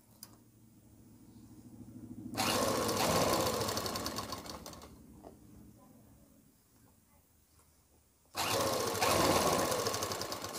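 A sewing machine stitches a sleeve seam in two loud, rapid, buzzing bursts close by, separated by a quieter pause, with a voice speaking faintly in the background.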